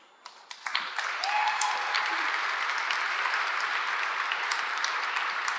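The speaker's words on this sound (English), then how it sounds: "Can we get a big round of applause for Amer Zahr, Miriam Arghandiwal, and Rolla" Audience applause breaks out at a live panel on media, art and Palestine, starting with a few scattered claps and quickly swelling into sustained, dense clapping from a full room that holds steady to the end.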